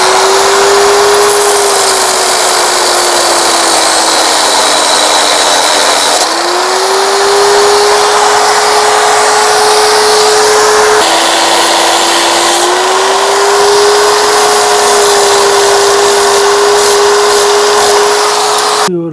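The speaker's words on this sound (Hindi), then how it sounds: "मैं यूज़ कर रहा हूँ अपना एंगल ग्राइंडर इस काम के लिए।" Angle grinder cutting off extra bolts on a motorcycle rear wheel during chain and sprocket work, a loud, continuous whine held close for the whole stretch, dipping in pitch under load and briefly resetting twice.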